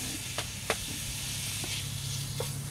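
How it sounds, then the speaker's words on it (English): Bacon sizzles and hisses steadily in a Dutch oven, with a few sharp pops and crackles breaking through the constant frying noise. "Oh yeah, listen to that sizzle."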